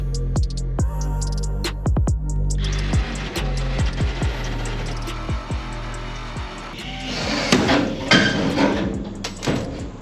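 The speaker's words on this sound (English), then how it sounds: "my dad's gonna finish the riveting right here" Riveting aluminum sheet into a Fisher bass boat: a rapid series of sharp metallic pops and bangs, close and loud, over a low rumble, with a denser burst of clattering near the end.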